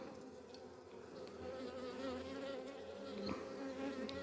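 A steady, dense buzzing of many honeybees at a hive, close and continuous, swelling slightly louder partway through with no voices.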